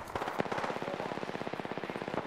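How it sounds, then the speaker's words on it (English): Rapid automatic gunfire from Apex Legends on PS4 in Kings Canyon, a fast, even burst of close shots rattling steadily for a couple of seconds with no talk over it. "Firing! Taking fire."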